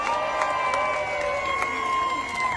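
A crowd cheers and claps at a county governor candidate's campaign launch rally, a dense continuous wash of applause and shouting that sounds moderately distant, with voices mixed in.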